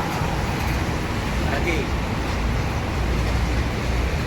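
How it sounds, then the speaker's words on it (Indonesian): Steady roadway rumble with a large Rosalia Indah bus engine idling and pulling away from a parking area nearby, continuous and fairly loud, no clear speech. "Kita menunggu untuk bus Rosalia Indah keluar"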